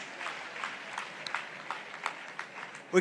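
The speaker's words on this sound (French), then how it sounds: "Applaudissons pour Jésus-Christ." Congregation clapping at a church service, a steady broadband patter of many hands, moderately loud and continuous, with a few sharper claps standing out and a louder burst at the very end.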